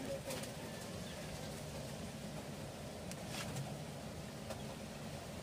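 A Gel Gelema crossed with Vandenbroek racing pigeon giving faint, soft coos against a constant background hum.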